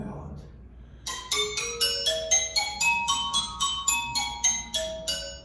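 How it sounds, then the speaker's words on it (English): Stone lithophone bars struck with a rosewood mallet, producing a run of about a dozen bright, ringing glassy tones stepping through different pitches after a brief quiet moment with faint background murmur. "here is the sound when I use a rosewood mallet."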